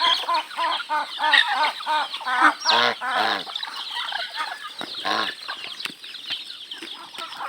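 Chickens cluck in a steady, close run of short calls with a few louder squawks and a brief flutter of wings, no talking over them.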